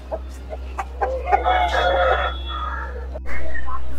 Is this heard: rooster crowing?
yes